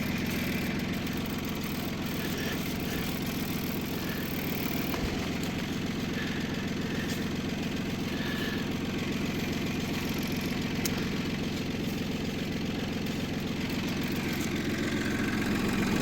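A tractor engine idles steadily during spring ploughing, a continuous low rumble with a faint knocking pulse, close and unbroken with no talk.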